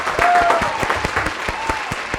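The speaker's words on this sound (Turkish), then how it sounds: "Alkış efekti varsa bravo" Studio audience claps in a short burst of applause after a joke on a Turkish comedy talk show, with a few louder individual claps standing out near the mic.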